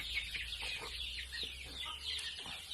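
Month-and-six-day-old village chickens cluck and peep in a busy, continuous chatter close by, the small calls overlapping steadily with no voices.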